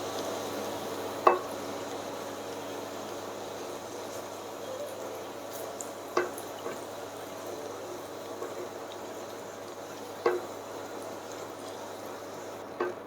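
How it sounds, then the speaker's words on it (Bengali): Potatoes frying for beef kacchi biryani sizzle steadily in a pan, with a few sharp clinks or taps as pieces are lifted out; no talking. "আলুটা আমার ভাজা হয়ে গেছে, আমি আলুটা তুলে নিচ্ছি"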